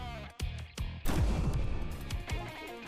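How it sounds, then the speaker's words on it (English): Heavy cannon blasts from a mecha in the anime-style mercenary game Nitro Gen Omega, a sharp booming shot followed by rolling explosive rumble, loud and close with several bursts in quick succession. "shoot cannon, shoot cannon"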